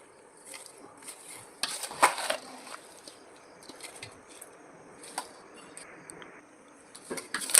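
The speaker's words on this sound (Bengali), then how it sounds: "ভালোভাবে আমি মিক্স করে নেব মশলাগুলো আমের মধ্যে" Raw green mango pickle being stirred with spices, soft squishy mixing sounds with a few sharper scrapes against the bowl, quiet and close.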